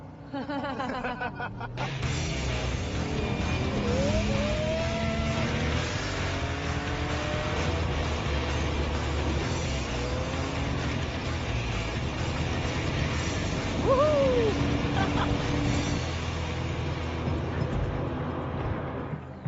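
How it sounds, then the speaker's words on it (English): A 450-horsepower Porsche GT3 RS engine drones loud and continuous from inside the car, with a dense roar that holds steady and swells slightly as it accelerates. "this is the Porsche GT3 RS. RS means like a racing car. It has 450 horsepower."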